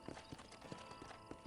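Horse hooves clip-clopping in the Red Dead Redemption video game, a faint, steady rhythmic trot of soft hoofbeats under low game ambience.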